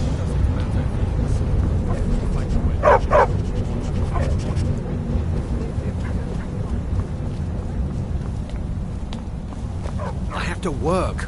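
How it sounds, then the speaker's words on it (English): Dogs in Skyrim VR bark, yip and whimper in short bursts against a steady ambient hum, the yelps clustered in a few spots, with people talking throughout. "Don't mind the dogs. They get anxious"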